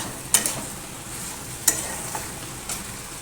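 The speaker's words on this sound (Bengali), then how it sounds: "মশলাটাকে এই যে কষে নিয়ে এবার জল দিয়ে দেবো" Chili powder, turmeric, salt and other spices sauté in oil, a soft continuous sizzle punctuated by three or four sharp scrapes of a spatula across the pan, no speech.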